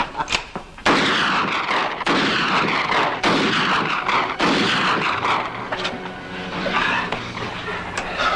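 Loud gunshots fired in a Western film, a dense, booming volley of reports with echoing tails across the whole scene that thin out toward the end.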